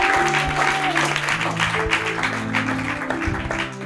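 Church congregation applauding during a Bible teaching, a dense, continuous patter of clapping from a gathered crowd, with a voice speaking over it and sustained tones underneath.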